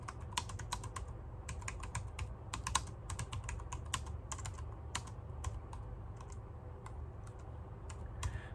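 Steady typing on a computer keyboard while entering code, with irregular bursts of quick key clicks over a constant low hum, fairly close and moderately quiet, with no voices.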